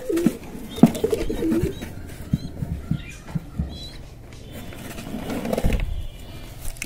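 Pigeons at a farm give scattered coos and low calls, faint to moderate and fairly close, with a few sharper knocks and a brief chirp in the quiet stretches; nobody speaks.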